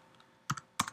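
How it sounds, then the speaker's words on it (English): Two quick bursts of keystrokes on a computer keyboard, each a short cluster of soft clicks close by in a quiet room. "you have to pause a little bit for the typing to let the autofill catch up"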